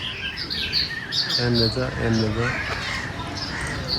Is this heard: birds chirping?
yes